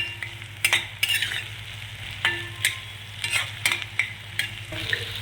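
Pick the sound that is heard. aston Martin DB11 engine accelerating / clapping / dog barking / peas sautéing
peas sautéing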